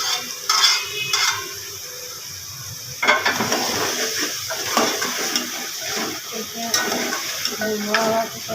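Food being stirred and roasted in a pan, with steady scraping and soft sizzling throughout, louder after a few seconds, with occasional utensil clinks close by.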